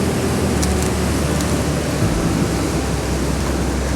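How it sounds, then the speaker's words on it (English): Steady, broad rushing wash of ocean surf breaking along a shoreline, continuous and fairly loud with no clear individual wave peaks, filling the whole stretch without any voices. "wait for the next wave"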